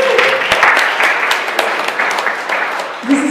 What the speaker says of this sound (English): So please, round of applause for her.